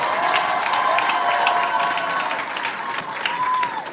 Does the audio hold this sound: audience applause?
yes